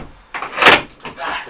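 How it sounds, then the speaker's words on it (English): Doors on a stored vehicle are opened, giving a few short clunks and a rattling latch-and-hinge sound, the loudest knock landing midway, all close and over quickly. "Let me get the doors open."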